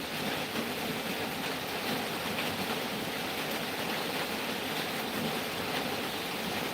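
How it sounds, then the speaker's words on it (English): Steady rain falling, an even hiss of drops that holds without change throughout at moderate loudness, with no voices. "Yeah, raining."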